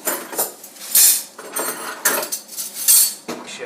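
Metal silverware from a kitchen drawer clatters and rattles into a plastic bag in several bright, jangling bursts, close and loud, with short pauses between handfuls.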